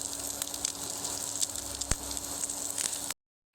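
Steady sizzling of tomato parathas frying in hot oil, close and continuous, with faint crackles, cutting off abruptly near the end.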